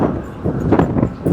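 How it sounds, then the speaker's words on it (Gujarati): Strong monsoon wind buffets a ro-ro ferry deck, a steady broadband roar with gusty swells rising and falling throughout, loud and close to the microphone. "વધારે જ પવન છે"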